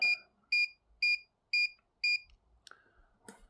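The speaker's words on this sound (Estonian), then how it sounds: "kui ta läheb üle 3 siit, siis ta hakkab piiksuma" A Huepar cross line laser level sounding its tilt warning, five evenly spaced high electronic beeps about half a second apart, close and clear, followed by a few faint handling clicks.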